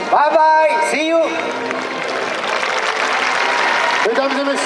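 A rodeo show crowd breaks into sustained applause at an outdoor equestrian event, dense clapping swelling and holding, while an announcer's voice booms over a PA at the start and again near the end.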